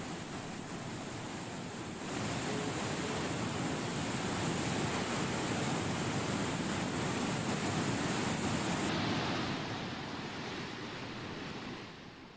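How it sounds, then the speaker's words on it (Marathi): Water discharging from the full Shivna Takli dam in the Marathwada region makes a steady, heavy roar that swells for several seconds and then eases slightly. "शिवना टाकळी प्रकल्प पूर्ण भरल्यामुळे मोठ्या संख्येनं पाण्याचा विसर्ग सुरू आहे"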